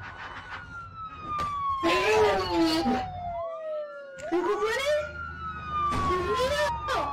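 A police car siren in a video game wails with a falling, sweeping tone under excited talk and shouting, rising and falling across the scene with a second siren sweep joining near the end.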